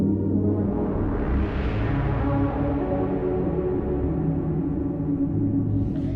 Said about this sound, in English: This is just the clouds module and the brains module.